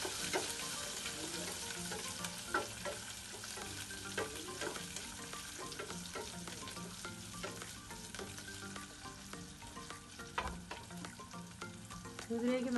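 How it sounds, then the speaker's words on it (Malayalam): Shallots and garlic sauté in a pan for Kerala-style moru kachiyathu, a continuous close sizzle broken by scraping stirs and occasional pops. "ഇതെല്ലാം ചേർന്ന് നമുക്കൊന്ന് നന്നായിട്ട് വഴറ്റിയെടുക്കാം."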